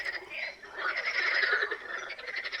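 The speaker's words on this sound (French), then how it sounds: "pour faire taire le concert des grenouilles" A dense chorus of frogs croaking among reeds at the water's edge, continuous overlapping calls, fairly close and steady with no talk.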